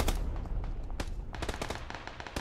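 Rapid automatic gunfire in the battle royale game Apex Legends, sharp bursts of shots in quick succession with a few isolated cracks, loud and close with no talk over it.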